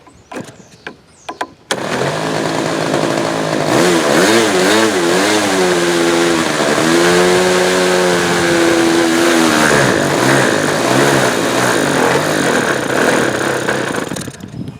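Small glow-fuel engine on a Hangar 9 T-34 Mentor model airplane cranks briefly, fires up and runs steadily at a loud, close buzzing drone, its pitch wavering up and down before settling, with the high-speed needle set 2 1/4 turns open.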